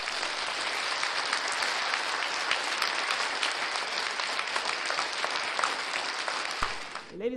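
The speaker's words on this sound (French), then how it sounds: "Je vous demande de l'applaudir s'il vous plaît." Sustained audience applause at an African economy awards ceremony, a dense, even wash of many hands clapping that continues steadily for several seconds before cutting off abruptly near the end.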